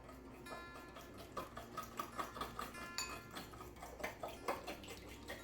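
A spoon clinks steadily against a bowl while chicken sauce with salt and pepper is stirred, giving quiet rhythmic ticking scrapes close by.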